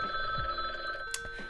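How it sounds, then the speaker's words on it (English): An incoming-call ring from the Gartic Phone video game chimes steadily for about a second and a half, a clear electronic phone ring with a brief bright blip near the end and no talking. "Yep, the Gartic Phone is calling"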